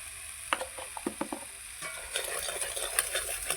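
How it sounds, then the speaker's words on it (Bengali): Masala sautés in oil in a pan on a clay stove, with a spoon scraping and stirring in quick, irregular strokes over a soft, continuous sizzle. "মশলাটা ভালো করে কষায় আগে"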